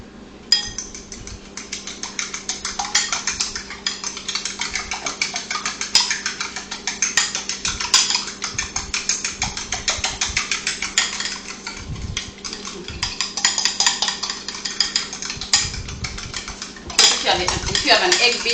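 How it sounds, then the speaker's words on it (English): A fork beats an egg in a bowl for a traditional Thai eggplant dish, giving rapid, steady clinking and scraping of metal on dishware, close and fairly loud. The strokes go on throughout with short pauses and no talk. "All right, so I'm going to beat the egg."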